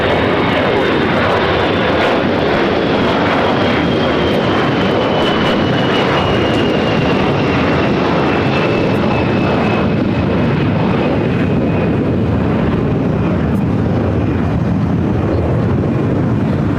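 An airliner takes off from runway 25 right at LAX, its engines a loud, steady roar that fills the whole stretch, with a whining tone slowly falling in pitch as the aircraft climbs away.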